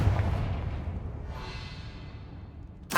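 Confringo fire spell in the Hogwarts Legacy video game, a booming blast that fades into a rushing whoosh, followed by a sudden sharp hit at the end, no talk.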